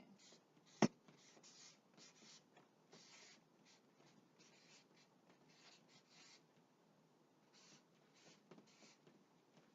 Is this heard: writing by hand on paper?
yes